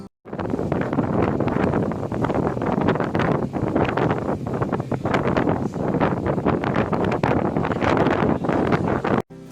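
Strong wind buffets the microphone on a ferry crossing the Bosphorus from Üsküdar to Beşiktaş, making a loud, steady roar with gusty swells and no talk.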